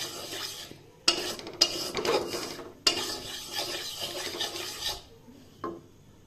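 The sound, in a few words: flour being fried and stirred on low heat for white sauce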